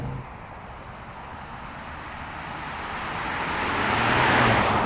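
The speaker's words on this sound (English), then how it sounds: "let's put this car into gear, and away we go" A 2015 Volvo V60 T6 R-Design pulling away, its engine and road roar swelling gradually as it gains speed, heard from inside the car without speech.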